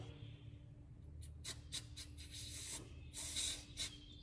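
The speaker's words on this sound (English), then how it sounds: "Take a little brake cleaner and we'll" Brake cleaner sprayed from an aerosol can onto a McCulloch Pro Mac 610 chainsaw cylinder, several short hissing bursts followed by a longer spray, close and quiet over a faint background hum.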